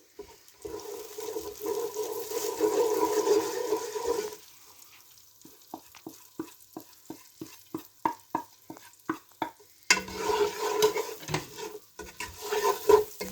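Softened onions sizzle in a pan as spices go in, with stirring scrapes over the frying; midway the sizzle drops away to a run of quiet rhythmic taps before the loud frying returns.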